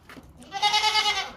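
A young goat kid about two and a half to three months old gives a single loud, close, wavering bleat lasting about a second.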